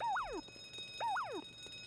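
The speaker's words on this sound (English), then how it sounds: "There's the silent alarm." Two identical warbling electronic alarm chirps from the silent alarm in The Simpsons: Hit & Run, each a rising-then-sweeping-down siren tone, repeating about once per second against faint background game sounds.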